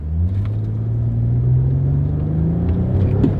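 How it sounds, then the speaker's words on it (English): A car engine starts low and steady, then revs as the throttle is pressed, its rumbling tone climbing gradually and staying loud and close throughout. "We'll give it a little gas."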